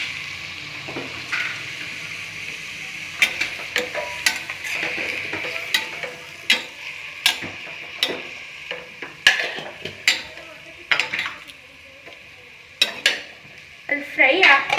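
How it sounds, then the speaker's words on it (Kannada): A tomato mixture fries in a pan with a soft continuous sizzle, punctuated by repeated clinks and scrapes of a spoon stirring against the metal, with occasional talk. "ಇದು ಸ್ವಲ್ಪ ಫ್ರೈ ಆಗಲಿ."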